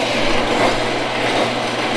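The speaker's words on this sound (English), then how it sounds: "Piece of drill steel. Cutting her off." A length of drill steel is cut to make a heavy-duty truck tie rod, with a loud, harsh, continuous grinding roar that holds steady without a break.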